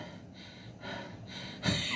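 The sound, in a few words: breathing sound imitated by speaker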